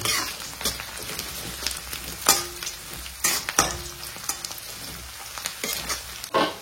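Thinly sliced ginger and chopped garlic frying in a pan, a steady sizzle broken by repeated sharp scraping stirs of a spatula, close and moderately loud with no talking.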